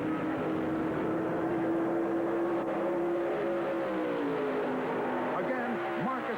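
Stock cars race in the 1977 Southern 500, including David Pearson's Mercury, a sustained engine roar that sweeps and shifts pitch as cars pass, with a commentator talking throughout.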